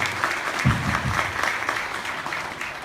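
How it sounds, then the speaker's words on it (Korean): An audience applauds to welcome a Catholic University professor at a public policy forum, steady continuous clapping that fills the space, with a few louder close claps near the start. "뜨거운 박수로 환영해 주십시오."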